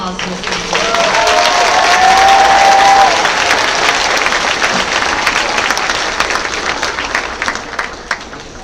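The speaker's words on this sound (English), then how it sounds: "Would you please give another round of applause to Ms." Audience applause at a fifth grade promotion ceremony, a loud, sustained roomful of clapping that swells early and tapers slowly, with a voice briefly audible near the start.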